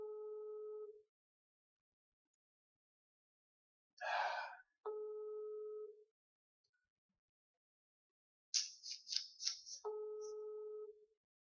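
A French ringback tone sounds while calling a private seller about a used Porsche Cayenne S: three evenly spaced steady beeps, each about a second long, separated by silences and brief unrelated noises.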